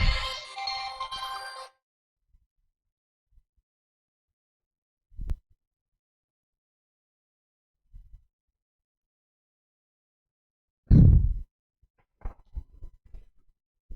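A phone's ringtone plays for an incoming call during a physics lesson, a loud patterned ring lasting under two seconds at the start, then mostly quiet with a few isolated thumps and brief sounds.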